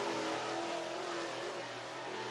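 Race car at Southern Raceway in Milton, Florida, powering out of turn four, a steady loud engine roar that holds strong across the moment without any talk over it.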